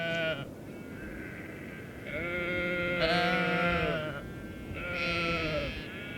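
Sheep bleating on coastal pasture near salt marshes, several long wavering bleats overlapping one after another, close and fairly loud over a soft outdoor background with no talking.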